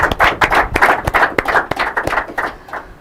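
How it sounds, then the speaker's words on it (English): Short burst of hand clapping for debate speakers at an inter-collegiate quiz and debate competition, fairly close, a few irregular claps fading over three seconds. "A warm round of applause is very much in order for the lead speaker and the supporting speaker from Gabriela Schools."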